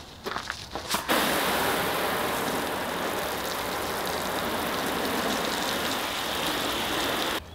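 Water from a hose sprays onto the metal skin of an Airstream RV, a dense, hissing rush that starts abruptly after a few brief knocks and continues steadily at close range until it cuts off at the end.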